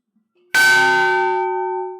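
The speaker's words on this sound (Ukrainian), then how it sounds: "У 2022 році прихожани храму купили новий благовіст." A single loud strike of a new church bell at an old church in Oleshkiv, Ukraine, with a long, slowly fading metallic ring.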